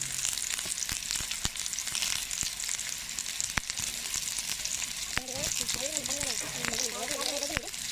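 Bread slices dipped in beaten egg sizzle steadily on a hot pan for a bread omelette, a continuous close frying hiss with occasional clicks, and a voice briefly speaking near the end.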